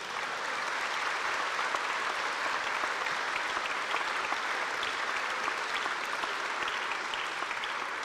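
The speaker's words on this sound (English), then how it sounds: "Let's give them a hand." Crowd at a National Guard air defense artillery battalion's welcome home ceremony breaking into sustained applause, a thick, even roar of many hands clapping that stays loud and constant with no speech over it.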